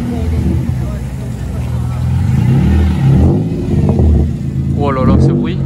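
A Nissan car's engine revs at a French car meet, a loud, rough, low roar, while voices talk over it close by.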